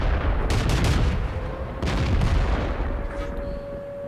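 Rapid artillery gun shots from the World of Tanks video game, several broad booming blasts in close succession with rumbling tails, loud and near, fired in quick spam as the gun reloads.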